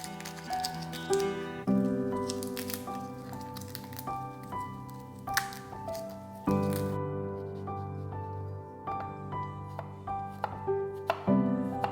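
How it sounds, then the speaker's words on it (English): Garlic is finely chopped with a knife on a board, giving soft, rapid, irregular knife taps close by, partly under steady melodic background music. "Two pieces of garlic, finely chopped."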